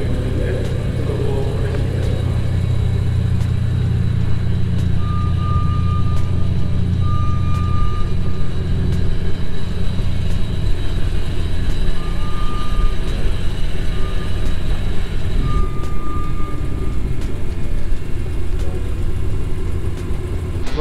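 Class A race cars pulling away from the start at Fuji Speedway on a still-damp track, a dense, steady engine roar and low rumble filling the whole stretch, with faint intermittent electronic beeps cutting through midway.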